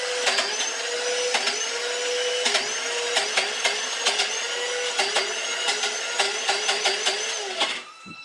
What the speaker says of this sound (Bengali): এসেই দেখলাম মামনি মিক্সিতে ডাল বাড়ছে